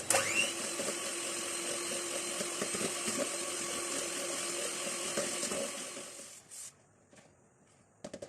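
An electric mixer beats butter and sugar for coconut cookies with a steady, close motor whir that runs for about six seconds and then cuts off, leaving faint clatter.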